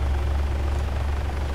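Helicopter in Arma 3's Altis Life mode, a steady low rotor thrum with rhythmic blade pulsing, close and continuous with no talk over it.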